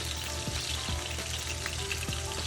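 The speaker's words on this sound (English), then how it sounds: "flipping our salmon" Salmon fillets fry in a pan with a soft continuous sizzle and a few light clinks as the pieces are turned, quiet and close, no voices.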